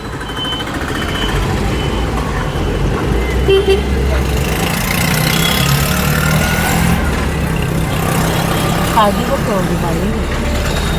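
Traffic on the Mumbai-Goa highway (NH 66) passes through a town, with a continuous rumble of cars, trucks and buses and a few horn toots rising out of it near the end. Voices are heard now and then over the road noise.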